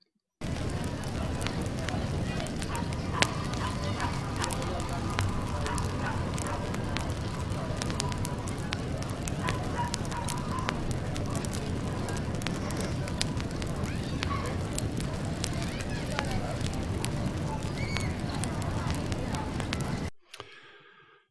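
Crackling flame layered into a steady background ambience, a continuous soft crackle with scattered sharper pops running evenly for about twenty seconds before cutting off.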